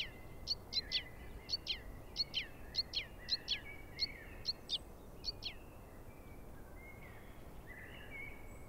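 Crossbills call from beneath cedar roots on the shore of Lake Teletskoye in the Altai, giving a run of a dozen or so sharp, high chip notes in a quick, fairly regular series, then fainter scattered calls over a soft background hush.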